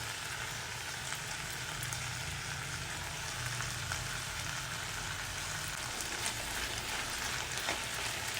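Eggplant curry mixed with masala in a pan gives a steady, close sizzle and soft stirring scrape that runs evenly throughout, with no voices.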